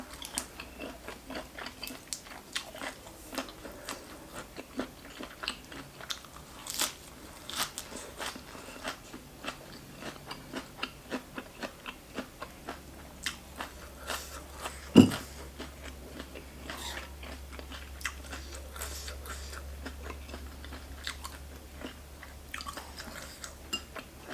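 Close, crisp crunching and chewing of giant cuttlefish with a thick, spicy fermented-fish seafood sauce, as repeated bites and crackles through a quiet background, with one louder clink midway.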